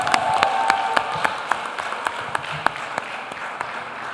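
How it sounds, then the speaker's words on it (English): At a school board meeting, an audience applauds a high school senior, with scattered clapping and a few sharp, distinct hand claps standing out in a loose, steady rhythm over several seconds. "Please give him a round of applause."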